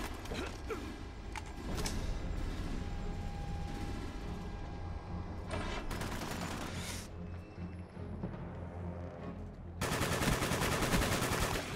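AK-47 gunfire in Call of Duty Black Ops on the Wii, bursts of rapid automatic shots with mechanical clatter, growing to a dense loud stretch near the end, no voices.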